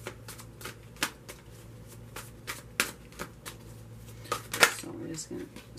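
A deck of tarot cards is shuffled by hand with crisp, sharp snaps and flicks at an irregular pace, close up and fairly quiet, under a faint background hum.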